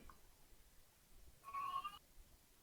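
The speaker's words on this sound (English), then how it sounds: "if you hear a cat meowing, it's mine" A pet cat named Merlin gives a single short meow, faint and somewhat distant, over a quiet background with no talk.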